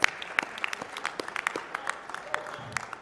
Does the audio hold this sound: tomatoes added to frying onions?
no